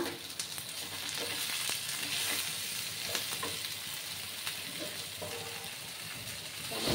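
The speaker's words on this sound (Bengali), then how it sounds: "ভালো করে জিরে গুঁড়োর সাথে কষিয়ে নেব।" Spices with cumin powder and a splash of water frying in a pan, a steady close sizzle with occasional scraping stirs, alone without speech.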